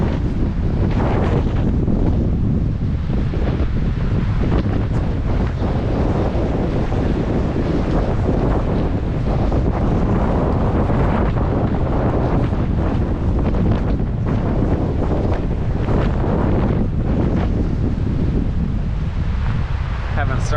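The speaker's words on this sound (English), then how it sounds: "Pretty big waterfall." A big waterfall in Iceland beside a rapid river roars as a dense, continuous broadband rush, loud and unbroken throughout, mixed with heavy wind buffeting on the microphone.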